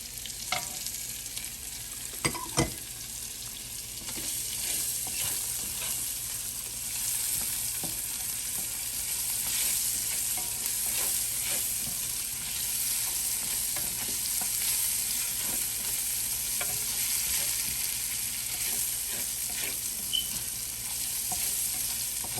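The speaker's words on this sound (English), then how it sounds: "Alright, so I've been sauteing my veggies for 2 minutes." Onions and mixed vegetables sautéing in a pan for coconut curry shrimp pasta, a constant bright hiss of frying with occasional soft utensil taps and scrapes, close and steady with no talk.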